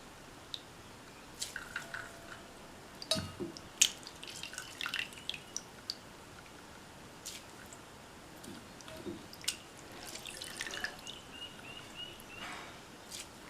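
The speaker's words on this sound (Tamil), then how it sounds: "இப்போ இந்த அவலை நல்லா பிழிஞ்சிட்டு இன்னொரு பாத்திரத்தில் சேர்த்துடலாம்." Soaked flattened rice (aval) being squeezed by hand to press out the water, giving faint, intermittent wet squishing and dripping sounds in a quiet kitchen.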